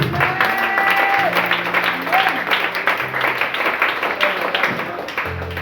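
A church congregation applauds in a steady, dense wash of clapping that carries on throughout, with voices and tones from the service blended underneath.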